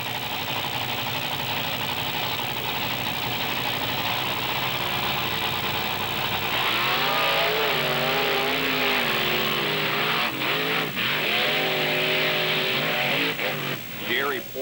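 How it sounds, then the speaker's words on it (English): Monster trucks drag racing on a beach at Thunder On the Beach 1996, including the Carolina Crusher and the Liquidator, with steady engine roar and rising revving whines under continuous announcer commentary. "Gary Porter, the Carolina Crusher, hugs the ground, all the horsepower right to the beach."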